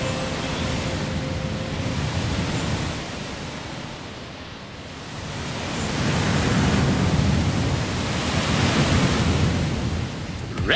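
Waterfall roar at Roaring Falls in the Go Go Thomas train racing game: a steady, broad rushing wash that dips briefly midway and then swells louder again, continuous and close, with no talk.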